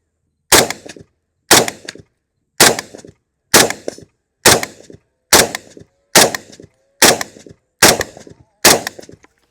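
Galil rifle firing ten sharp single shots outdoors at a long-range shoot, evenly spaced about a second apart, each a loud crack with a short decaying tail, no talk between.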